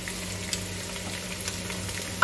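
Garlic-ginger paste and ground green chillies sizzling in hot fat with browned mutton for pulao, a steady close crackle with faint stirring taps and a sharper burst at the end.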